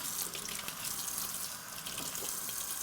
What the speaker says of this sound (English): I'm going to give these a quick rinse because it's kind of slimy and gross right now